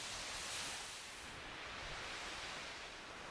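A soft, steady ocean-wave sample called Santa Monica Waves plays from an iPad lo-fi soundtrack app, a quiet hissing wash of surf with a gentle swell and fade and no voices.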